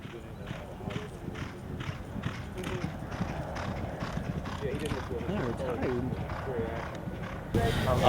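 Horses on the backside of a racetrack at Churchill Downs clip-clop with steady hoofbeats on hard ground. People talk nearby over the hooves and constant background noise.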